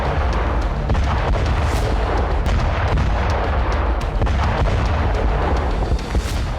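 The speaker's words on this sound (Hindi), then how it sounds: "रूस ने मिसाइल विस्फोट किया," A Russian ballistic missile explosion rolls out as a dense, continuous low rumble pocked with repeated booms and cracks, loud and sustained throughout with no voices.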